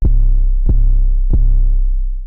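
Plugin-enhanced 808 bass in a beat, a heavy sustained sub-bass tone punctuated by three evenly spaced punchy hits, loud and unaccompanied, fading out at the end.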